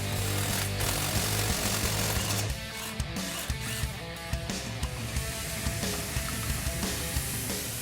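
A bushing is drawn out of an 8.8-inch 1985-2004 Mustang axle housing by turning a puller tool with a wrench; steady mechanical hum gives way to repeated ratcheting, scraping clicks of metal working, close and without voices.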